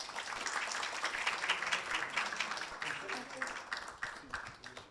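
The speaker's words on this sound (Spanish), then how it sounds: "Así que lo recibimos con un aplauso," An audience at an academic talk on colorectal cancer research claps to welcome a speaker, a steady wash of applause lasting several seconds with some voices mixed in.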